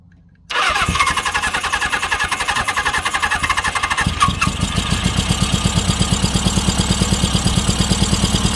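A seized-up 1983 Suzuki GS750 motorcycle, not run in 41 years, cranks and catches after half a second, then runs loud and close with a rapid, steady, slightly rising beat.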